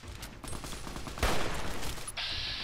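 Rifle gunfire in the game Fallout: New Vegas, a burst of several sharp shots over game ambience, with one louder crack standing out near the middle.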